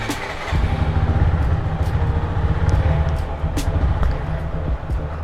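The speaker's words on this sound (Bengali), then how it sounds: "বাইকটা একটু আগে কোল স্টার্ট করে নিই" A motorcycle engine cold-starts and settles into a steady, close, rumbling idle.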